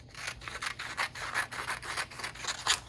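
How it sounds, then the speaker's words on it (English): Paper scissors snip through paper quilting templates in a steady run of soft, rhythmic cuts, close up and fairly quiet, with no talking. "We're going to use our paper scissors"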